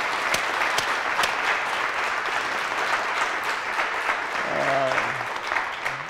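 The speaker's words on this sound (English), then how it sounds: "let's start them off with a big round of applause" Audience applause for an art talk, a steady wash of clapping from a seated crowd that holds throughout, with a brief voice surfacing near the end.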